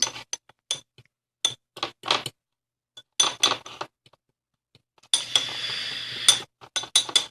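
A spoon or utensil clinks sharply against a glass or ceramic bowl while ingredients are stirred into a paste for short rib gravy, giving quick irregular taps and a brief scraping stretch, loud and close.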